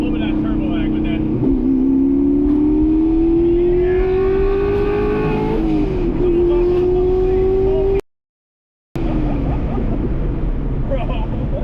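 A cheap truck fitted with a $125 turbo accelerates hard, its engine note climbing steadily under load before a gear change and a brief dropout, then pulling again; loud, close in-cab sound.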